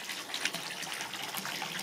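A small electrically powered garden brook keeps up a faint, continuous babbling trickle of water that stays soft and steady throughout, with no voices.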